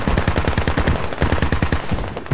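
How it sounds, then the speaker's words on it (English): Rapid automatic gunfire rattles in the military video game Squad, a loud, dense burst of closely spaced shots that runs unbroken from start to finish with no voices over it. "Charlie, you taking fire"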